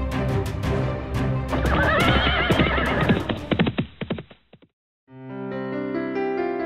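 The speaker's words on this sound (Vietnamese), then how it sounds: "Con ngựa khốn kiếp này, trời ơi" A cartoon horse whinnies loudly and shrilly in a rising, shaking neigh, with hoof clatter mixed in, then a brief silence before tonal music begins.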